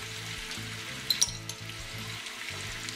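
Minced garlic and steak seasoning sizzling in a pan for a grilled rib-eye summer salad, a close, even hiss with a couple of sharp pops and a faint low hum underneath.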